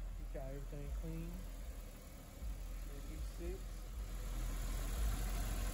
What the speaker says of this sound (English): Your motor sound like it's just purring